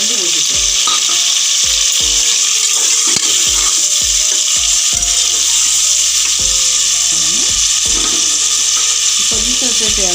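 Carrot, bean and potato pieces fry for a mixed-veg dal khichdi with a continuous loud sizzle. A spoon scrapes and clacks against the pan in a regular stirring rhythm throughout.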